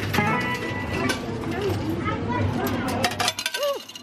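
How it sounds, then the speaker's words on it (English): Arcade dice game machine rattling and clinking through a dice roll before paying out tickets, a continuous mechanical clatter under loud amusement-arcade din with voices nearby, ending in a few electronic tones. "When it does that roll the dice noise like that."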